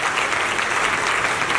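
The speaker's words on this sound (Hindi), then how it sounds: "तालियां बजाएं साहब, जबरदस्त तालियां।" Sustained audience applause at a network marketing seminar, a dense, steady wash of many hands clapping with no pauses, fairly loud and filling the whole short stretch.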